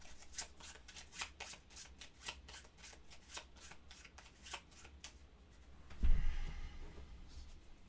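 A deck of board-game cards is riffled in a run of quick, crisp clicks lasting several seconds, quiet and close, followed by a duller bump and rustle as the cards are squared.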